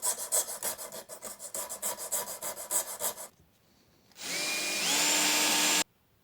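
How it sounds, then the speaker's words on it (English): Small files rasp against a circuit board for a Fender 300 PS amplifier, trimming it to final size: about a dozen quick, even strokes up close, then a pause and a steady high motor whine that shifts pitch twice before cutting off. "I have a whole lot of very small files which work well for this."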